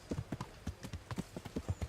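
Horse hooves clip-clopping in the video game Kingdom Come Deliverance, a quick, even rhythm of soft thuds at a walking pace, close by and fairly quiet, with no talk over it.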